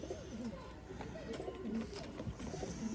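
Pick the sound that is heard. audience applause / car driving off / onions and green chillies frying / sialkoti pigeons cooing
sialkoti pigeons cooing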